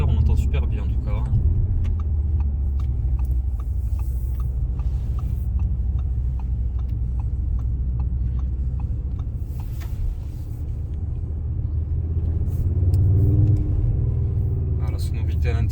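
Steady deep engine rumble heard from inside a moving Audi RS3 8Y, with occasional revving swells; a person talks over it.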